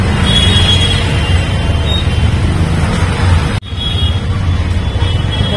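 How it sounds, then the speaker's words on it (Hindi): Dense, steady road traffic rumbles close by, a continuous low roar of passing cars and engines with a brief dip partway through, no talk over it. "बहुत ट्रैफिक है।"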